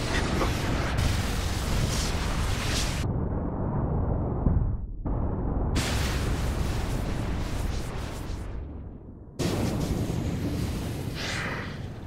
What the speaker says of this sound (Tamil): இப்போ 4 ஒரே இடத்துல வெடிக்குது